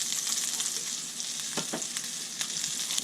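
Hamburger patties sizzle in hot bacon grease in a home kitchen pan, a steady close frying hiss with a few brief spatter pops, no voices.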